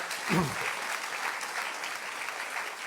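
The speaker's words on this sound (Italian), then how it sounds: "direi anche di fare un applauso ai giovani che ci sono anche qui in sala" An audience in a conference hall applauds the young people present, a brief, soft burst of clapping that settles into a sustained patter of applause.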